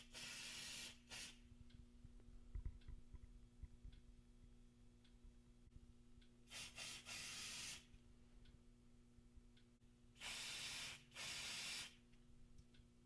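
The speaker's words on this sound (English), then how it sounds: "I'll be using this smoke saber, smoke detector testing spray to activate it." Three separate bursts of smoke detector testing aerosol spray hiss, each a second or two long with short gaps, heard close against a quiet background with faint ticking.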